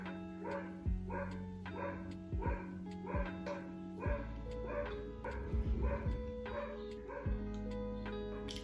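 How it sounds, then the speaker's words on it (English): A dog barks repeatedly indoors in a steady series of yips and woofs, some whimpering between, moderately close and fairly loud. "That's Cookie barking, by the way."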